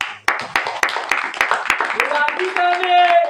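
A congregation at a sermon claps loudly in a quick, rhythmic beat, and a voice rises over the claps partway through.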